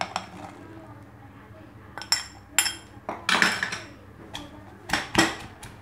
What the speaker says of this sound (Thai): แล้วเราก็มาโขลกพริกกระเทียมค่ะ